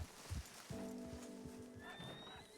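A horse in a ranch roleplay video game whinnies with a drawn-out, wavering neigh after a few hoof clops, fairly close and clear, with faint talking around it.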